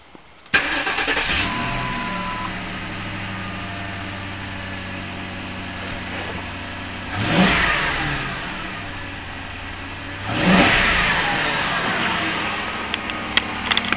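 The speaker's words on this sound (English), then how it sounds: "Let me start her." A 2006 Ford Crown Victoria Police Interceptor V8 cranks and fires, settling into a steady idle, then is revved twice with swelling roars that fall back to idle, close and loud.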